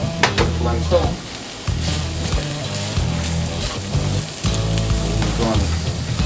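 Half an onion sizzling and frying in a pan on medium heat for grilled onions to go with Nathan's jumbo beef hot dogs, a loud steady crackle with occasional stirring scrapes, no talking.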